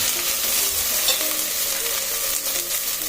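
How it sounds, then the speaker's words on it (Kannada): Vegetables and onion fry in a pan as eggplant is added for a thogarikalu sambar, giving a steady, close sizzle with light stirring scrapes throughout and no talking. "ನೆಕ್ಸ್ಟ್ ಬದನೆಕಾಯಿ ಹಾಕೋತಾ ಇದ್ದೀನಿ."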